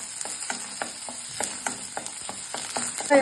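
Steady sizzling of onions and curry leaves frying in a pan, with a rhythmic series of scraping stirs and light clatter throughout.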